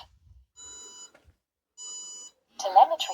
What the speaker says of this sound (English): you get that beeping for low battery, so you can find it